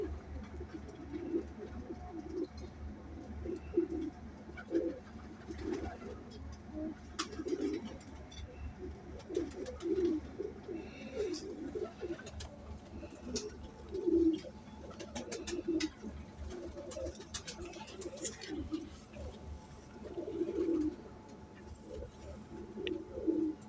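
A pair of teddy pigeons, male and female, cooing softly in repeated low throaty phrases at a steady pace, close by and fairly quiet, with no talking.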